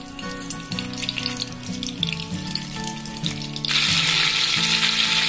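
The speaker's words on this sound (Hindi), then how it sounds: "एक कढ़ाई में दो चम्मच तेल गरम कर लेंगे और दो चम्मच बटर डाल देंगे।" Two spoons of butter melting into hot oil in a kadai for Amritsari paneer bhurji, giving a steady sizzle over a background hum, then a louder, brighter burst of frying near the end.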